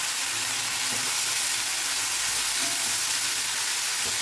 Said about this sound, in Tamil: போட்டு நல்லா ஃப்ரை பண்ணிக்கோங்க இந்த ஆயிலே